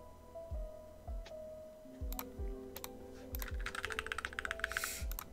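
Mouse or keyboard clicks tapped in a burst to hit save while playing a game, crisp and close, picking up into a quick run of rapid clicks near the end. Low thumps and game sounds play underneath.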